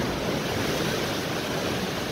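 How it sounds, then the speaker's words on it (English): Steady, loud wind roars across Bournemouth pier during a fishing session, a constant broadband rush buffeting the microphone with no pauses and no voices. "It's too windy to have any more out."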